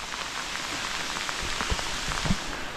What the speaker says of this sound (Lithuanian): O, kiek sniego. Ledukai.